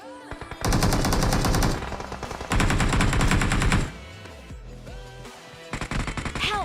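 Rapid automatic gunfire in the mobile battle royale game BGMI, with loud sustained bursts and shorter bursts separated by brief pauses, close and dominant.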